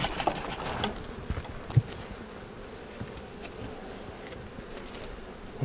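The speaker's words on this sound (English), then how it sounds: "So this hive right here is showing that they've got a lot of foragers out right now." Honeybees buzzing around an open hive during spring hive work, a steady close-up hum with scattered louder passes and faint knocks.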